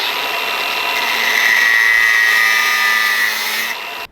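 A power tool, likely a small cutting tool or grinder, slits a plastic fuel quick release fitting while building the fuel system of a turbo LS1 VY ute, giving a steady close whine that holds for about four seconds before cutting off.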